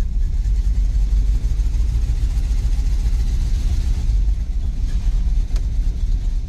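Engine of a wrecked 1987 GMC 4x4 pickup running close by, a loud, rough low rumble that holds steady throughout with slight fluctuations and no talking.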